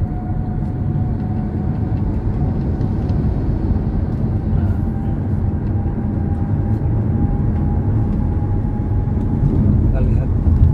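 Steady road and engine drone fills the cabin of a car moving on the road with dynamic radar cruise control engaged. The hum stays constant and swells slightly toward the end as the car gathers speed.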